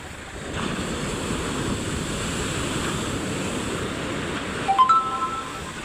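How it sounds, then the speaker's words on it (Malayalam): Rough sea surf and strong wind at a fishing beach where boats are hauled ashore: a steady, broad roar of breaking waves and gusting wind throughout, with a brief faint whistle-like tone near the end. "അതിൻ്റേതായ തിരയും കാര്യങ്ങളൊക്കെ ഭയങ്കര കൂടുതലാണ്"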